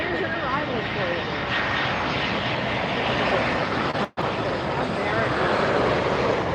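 Aircraft arriving at Miami Airport, heard close as a loud, steady broadband roar that holds throughout, with one brief dropout near the end.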